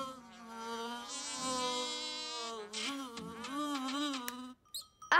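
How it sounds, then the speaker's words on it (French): Mosquito buzzing close by at night, a thin, high, wavering whine that drones steadily for several seconds, wobbles in pitch, then cuts out. "Ah, cette fois c'est sûr, c'est un moustique."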